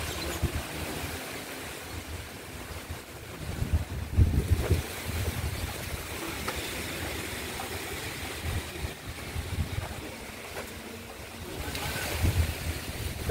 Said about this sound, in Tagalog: Lakas pa ng hangin dito.